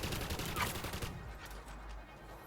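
Hip-fired weapon in Elite Dangerous: Odyssey, a dense rapid burst of gunfire for about a second, then a quieter rumbling tail and lingering echo, steady and moderately loud.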